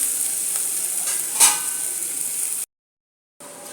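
Onions softening in hot oil in a pan for a potato and pea masala, with a steady broadband sizzle and occasional stirring scrapes, one brief louder flare, then a short silence before the frying resumes.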